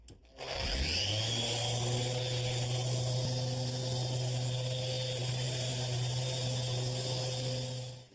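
A power sander with 150 grit sandpaper spins up and runs on a surface in a kitchen remodeling job, a sustained whirring hum with rough scratchy noise over it, close and steady before winding down at the end.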